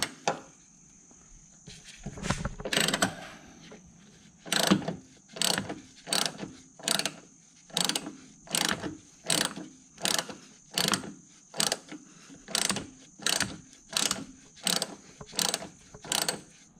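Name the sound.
ratchet loosening rusted BMW front strut bolts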